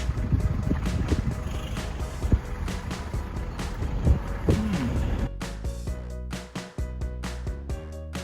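A Toyota truck rolls along a potholed road near Chefchaouen, Morocco, with a rumbling engine, repeated thuds and rattles from the bumps, and a brief whine partway through.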